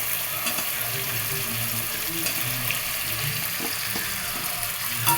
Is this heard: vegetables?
yes